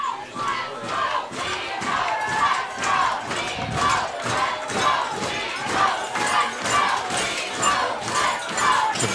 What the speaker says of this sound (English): Fans, though, forever faithful, cheering on Ontario